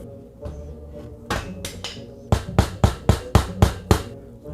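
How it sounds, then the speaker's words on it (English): A hammer smacking the hard casing of a household appliance: a dozen sharp metallic blows, a few spaced strikes and then a quick rapid run of evenly timed hits, close and loud. "I'm smacking it with a hammer"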